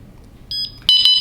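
A projection alarm clock in a bedroom beeps in paging mode, sharp electronic tones starting with two short chirps and then a louder, longer beep burst, close and clear.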